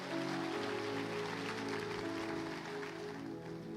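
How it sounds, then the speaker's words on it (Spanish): Sustained applause from a church congregation fills the room, dense and steady throughout, over a held organ or keyboard chord. "Démosle un fuerte aplauso a estas personas"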